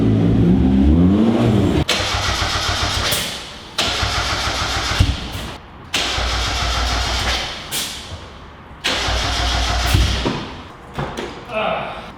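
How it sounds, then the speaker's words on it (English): A turbocharged Mazda Miata with clutch problems cranks over repeatedly in several bursts, the starter churning loudly with brief gaps between attempts, close by. "when I was cranking it over, it was moving the car."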